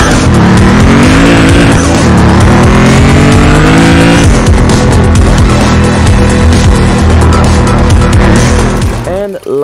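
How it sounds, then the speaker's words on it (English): Cars race and drift in the mobile racing game Kanjozoku 2, with loud continuous engine revving and screeching tire squeals filling the whole stretch, shifting pitch as the cars accelerate and slide. "you'll feel like you're in your favorite racing anime with fast-paced racing action and drifting gameplay"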